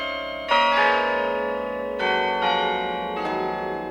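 Clock tower bells driven by a digital controller ring out in several loud, close strikes, each new tone layering over the long resonant hum of the ones before.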